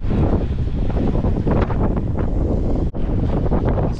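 Strong wind buffets an outdoor microphone at the SpaceX Starbase site in Texas, a steady, loud, broadband roar with gusting surges and no voices.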